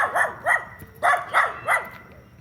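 A small pet dog barks indoors in a rapid series of about five sharp, close yaps, each a short bright burst, followed by a pause.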